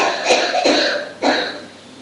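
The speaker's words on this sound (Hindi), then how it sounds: "ये खांसने वाली बहन बाहर चली जाए जरा अच्छा है" Several harsh coughs from an audience member during a Hindi-language lecture, loud and close, in quick bursts with short gaps between them and no talking over them.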